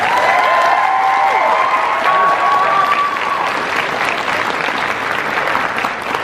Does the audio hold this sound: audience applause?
yes